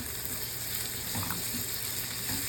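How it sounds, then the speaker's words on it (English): Bacon and onions rendering in a pan, a dense continuous crackling sizzle, close and steady, with faint stirring touches and no talk. "I'm going to go ahead and put in bacon and onions. We're going to get that going. To render the bacon."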